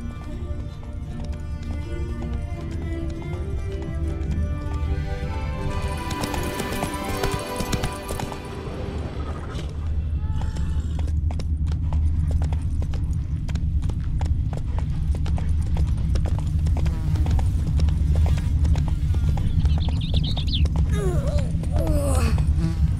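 Roach the horse gallops in The Witcher 3: Blood & Wine, hooves clip-clopping in a quick, steady rhythm up close. A neigh and some game music and effects rise over the hoofbeats midway.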